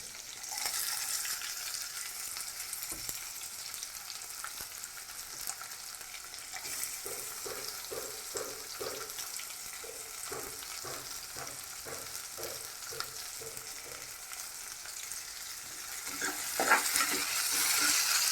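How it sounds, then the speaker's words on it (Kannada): Onions fry in oil for dhal khichdi with a steady, close hiss, while a spoon stirs through them in a run of rhythmic scraping strokes. "ಚೆನ್ನಾಗಿ ಎಣ್ಣೆಯಲ್ಲಿ ಬಾಡಿಸ್ಕೋಬೇಕು."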